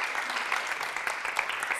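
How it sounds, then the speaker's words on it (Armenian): An audience on an Armenian TV show applauds a singer, a steady dense wash of clapping that stays fairly even throughout this short stretch. "Ծափ հարություններ բարձրացնենք"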